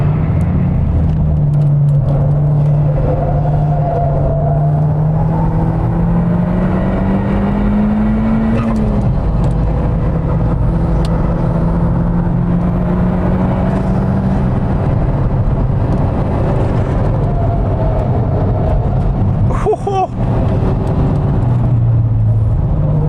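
A car driven hard on Goodyear Eagle F1 Supersport tyres, traction control off, holds a loud, steady engine drone with rising and falling revs and road roar throughout, one brief sharp transient near the end.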